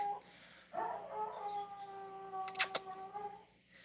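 A dog named Duke, heard late at night, howls in a long, wavering, mournful tone at a distance, with a couple of sharper yelps breaking through partway.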